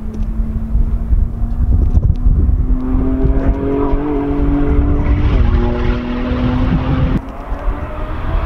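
A Ford GT's V6 engine roars loudly and up close, revving steadily with shifting pitch before dropping away sharply near the end.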